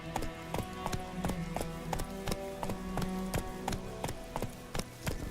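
A horse galloping in the video game Witcher 3, with steady, rapid hoofbeats that clip-clop evenly under a continuous tonal music bed and carry on throughout.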